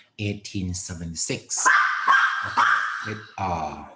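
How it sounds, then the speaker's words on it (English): A dog barks in a quick series of sharp close yips indoors, then whimpers, while someone speaks over it. "Sorry, that's my dog."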